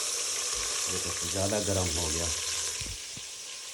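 Spices hit hot oil in a home kitchen while cooking sehri, giving a steady loud sizzle and crackle that runs throughout, with someone talking over it partway through.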